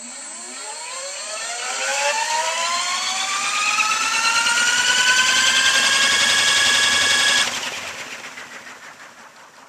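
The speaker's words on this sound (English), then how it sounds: "Just doing a couple idle up tests actually for blades." Little Wing gyroplane prerotator spinning the rotor blades up at idle, a whine rising steadily in pitch for several seconds and then cutting back as the spin-up ends, close and loud.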